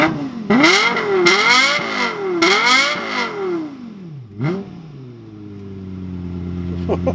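A Lexus LFA engine revs in neutral with several sharp, loud blips that rise and fall quickly, then drops back to a steady idle near the car.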